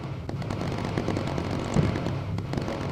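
A missile explodes in the Bomber Crew aerial combat game, a dense rumbling blast with a sharper burst near the middle amid continuous low battle noise and scattered distant pops.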